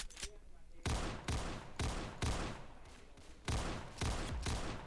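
Rapid bursts of video game gunfire crack out in repeated volleys, loud and close, with short gaps between the rounds of shots.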